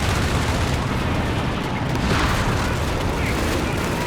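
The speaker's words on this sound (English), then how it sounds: "All sorts of artillery." Artillery fire in the World War II strategy game Company of Heroes 3, a loud, continuous wash of overlapping booms and blasts with no pause between them.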